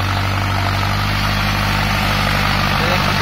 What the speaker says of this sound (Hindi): और भाई ट्रैक्टर के अंदर कोई कुछ खास लोड नहीं है, आराम चल रहा है ट्रैक्टर।